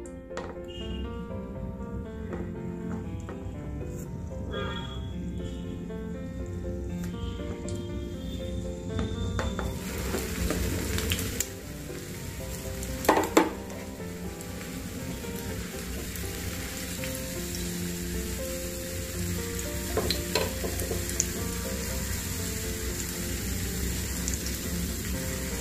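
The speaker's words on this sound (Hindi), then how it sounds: "हमने तवे में प्योर घी गर्म कर लिया है, दो बड़े चम्मच डाले हैं। अब हम हमारी टिक्कियां उसमें शैलो फ्राई करने के लिए रख" Potato tikkis shallow frying in pure ghee on a hot griddle over medium gas flame, a steady broad sizzle throughout with a brief louder crackle burst midway and a few scattered pops.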